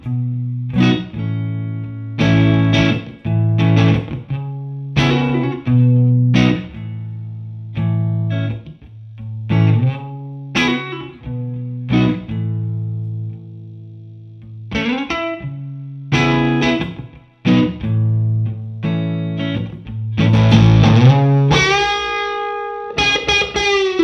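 A Stratocaster electric guitar plays through a Vemuram Jan Ray transparent overdrive pedal into a Classic Reverb signature amp. It gives a lightly driven tone with chords and single notes in phrases, gaps between them, and ringing sustain.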